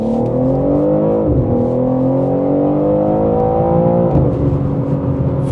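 A BMW M3 Competition xDrive driven hard around a corner, heard as a loud engine drone from inside that rises in pitch, dips briefly at the corner and climbs again, with no talk.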